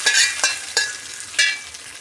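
Hot oil tempering with dried red chillies and curry leaves poured into coconut chutney, crackling in several sharp sizzling bursts that taper off between them, close and alone.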